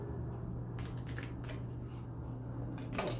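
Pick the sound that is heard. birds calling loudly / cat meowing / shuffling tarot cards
shuffling tarot cards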